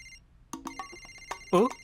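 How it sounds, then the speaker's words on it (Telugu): A short electronic ringtone plays up close after a few brief tones, a rising warbling chime near the end. "ఇప్పుడు నా ఫ్రెండ్ కేఎం ఫోన్ చేస్తున్నారు"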